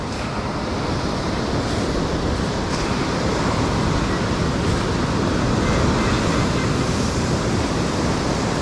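Steady roar of ocean surf with an incoming tide on a Southern California beach, washing in continuously, loud and close, with wind noise buffeting the microphone.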